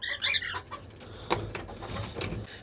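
Caged chickens cluck and chatter in short, uneven bursts of moderate loudness over a low hum, with a few brief rustles in the background.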